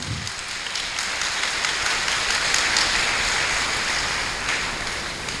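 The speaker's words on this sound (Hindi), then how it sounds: "जमीनी बाप के लिए जोरदार तालियां" Loud, sustained applause from a church congregation, a dense continuous wash of clapping that holds steady throughout.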